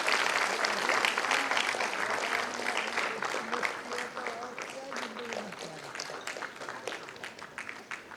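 An auditorium audience applauds at a book inauguration ceremony, a dense steady patter of many hands that gradually thins and fades, with some voices mixed in.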